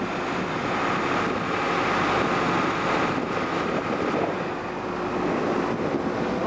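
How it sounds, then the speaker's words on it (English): A backup generator in an emergency lighting system runs steadily and loud, a continuous broadband engine roar with no break or voices throughout. "We should immediately hear generator 2 come online,"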